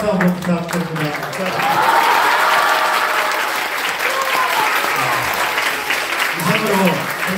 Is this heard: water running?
no